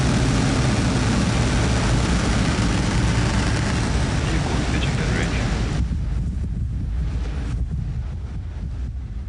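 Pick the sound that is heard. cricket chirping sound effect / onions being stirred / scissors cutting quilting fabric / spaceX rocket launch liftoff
spaceX rocket launch liftoff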